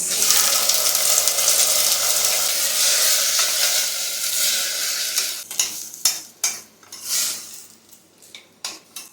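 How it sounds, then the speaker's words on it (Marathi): Rice is sautéed in a tempering with ginger-garlic-chilli paste, a steady close sizzle at first that gives way to sharp metallic scrapes and clinks of a spoon against the pan. "जरा असं फोडणीमध्ये चांगला परतून घ्यायचा"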